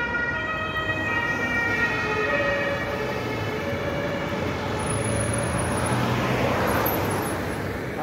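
Police and ambulance sirens wail together on a Frankfurt street, a loud continuous siren with shifting overlapping tones rising over heavy traffic rumble for several seconds, with no voices.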